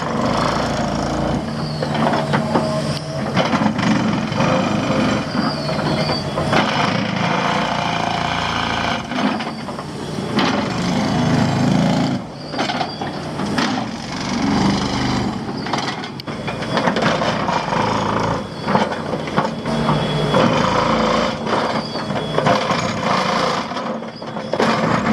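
Hydraulic excavator working at length, a steady loud engine drone with clanks, knocks and grinding scrapes of the arm and bucket throughout, no talk.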